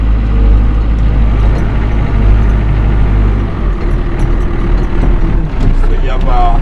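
A backhoe loader's diesel engine runs steadily with a deep low rumble while the bucket and boom are worked, loud and close, with slight shifts in engine load partway through.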